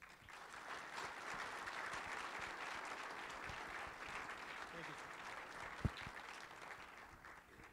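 A room of Milwaukee Rotary Club members applauds Senate candidate Russ Feingold, a dense, steady wash of clapping that holds evenly for several seconds before slowly thinning out.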